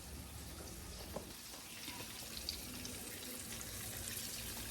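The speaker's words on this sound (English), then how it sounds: "you take your time and put it in the oil" Chicken fries in hot oil on a stove in a Jamaican-style home kitchen, giving a faint, steady sizzling hiss with a few soft clicks and no talk over it.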